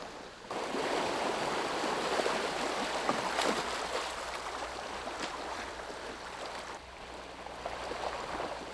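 Fast-flowing water rushes in an upstream creek near Kuril Lake, a steady broadband wash that stays fairly quiet and constant with no voices.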